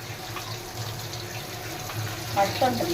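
Tap water runs steadily into a sink while vegetables bought from a farmers' market are washed of soil, a soft continuous splash with a few clinks and rustles near the end.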